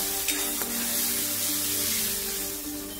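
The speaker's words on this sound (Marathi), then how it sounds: "अर्धा टोमॅटो छान असा सॉफ्ट करून घ्यायचा आहे आपल्याला यामध्ये तेलामध्ये।" Half a tomato with a little turmeric sizzles in hot oil, a steady close frying hiss with a couple of faint clicks of a spoon.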